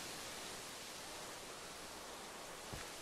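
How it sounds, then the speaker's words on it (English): Rain in the video game Minecraft, in a Lord of the Rings modded world, heard as a faint, steady hiss of falling water that holds unchanged throughout. "God, this rain is really unpleasant."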